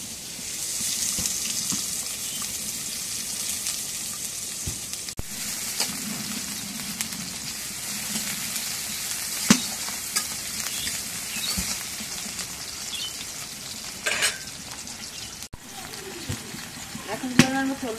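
Cooking oil hisses and sizzles in a pan with a steady broadband crackle while onions go in for a home-cooked potato curry, with occasional clinks, under faint background speech.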